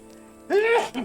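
A single short, sharp sneeze bursts out of a quiet room, close and loud, lasting under a second.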